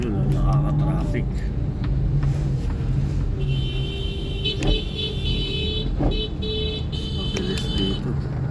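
Busy road traffic with cars passing continuously, a constant loud engine rumble, a few horn toots and a buzzing alarm-like tone partway through, with people talking over the noise.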